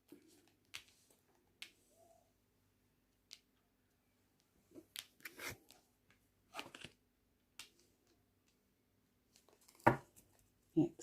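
A handful of large, decorative art cards being shuffled stiffly by hand, with some slipping loose: sparse, quiet papery riffles and flicks in short scattered bursts, then a sharper slap of cards near the end.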